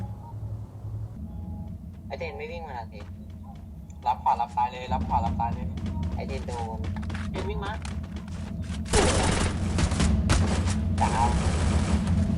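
Video game gunfire crackles in bursts and scattered shots over a constant low rumble, growing louder and denser toward the end, with voices talking over it.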